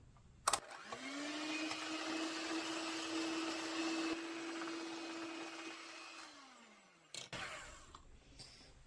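An electric mixer beats eggs and sugar for a red berry cake batter, a steady whirring motor hum that starts after a click, holds for about six seconds, then winds down, with a short clatter near the end.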